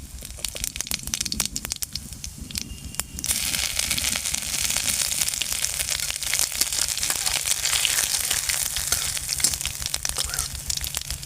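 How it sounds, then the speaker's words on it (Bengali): Cumin seeds dropped into hot oil with caramelizing sugar, sizzling and crackling steadily at close range, with a burst of sharper spitting that grows denser after the first few seconds and holds for the rest. "এবারে এতে দিয়ে দেবো 1 চামচ মতো জিরে"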